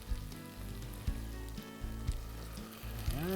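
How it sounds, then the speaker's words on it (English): Vegetable stock is ladled into a sizzling risotto pan, a continuous close frying hiss with a few soft knocks of the ladle and a rising bubbling surge at the end. "I'm going to give it a nice big ladle full of veg stock."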